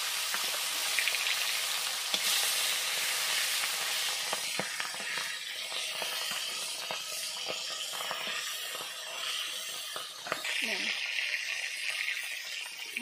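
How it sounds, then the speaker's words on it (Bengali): Foli fish fry in mustard oil in a hot wok, a bright continuous sizzle with crackling spatters and a few stirring scrapes, close and steady, while a voice speaks briefly partway through. "এই মাছগুলো ভেজে নেব।"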